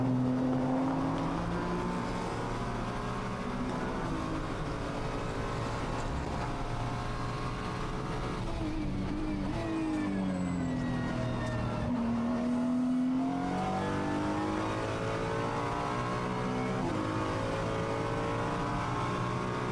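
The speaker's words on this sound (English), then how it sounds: "And let's go on board with Mr. Maezawa." Onboard a racing car during qualifying at Okayama for the Japan Cup, the engine screams loud and close. Its pitch climbs through the gears, then drops sharply under braking and downshifts before pulling hard again.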